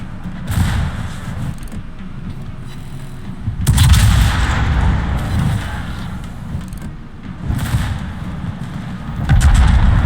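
Heavy naval shell fire from the Satsuma battleship in World of Warships comes as loud booming salvos, with three or four big blasts that roll into long rumbling tails.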